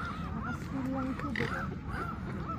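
A goose honks repeatedly at close range in a UK outdoor spot where birds are fed, with a person faintly talking in the background.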